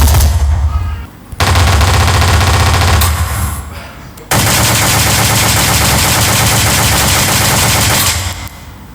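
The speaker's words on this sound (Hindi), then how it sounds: "चारों तरफ गोलियां चल रही हैं" Loud, dense gunfire sound effect of bullets flying all around, with sustained rapid machine-gun bursts that briefly drop off and then return even stronger and continuous until an abrupt stop near the end.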